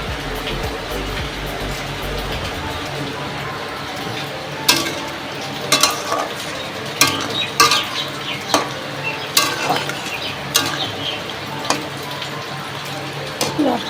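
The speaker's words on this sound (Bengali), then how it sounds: "আলু আর পেঁয়াজটা একসাথে ভাজা হয়ে যাচ্ছে" Potatoes and onions frying together in a pan with ground cumin, chilli, turmeric and salt, a continuous sizzle broken by repeated sharp clinks and scrapes of stirring, close by, with faint background sound.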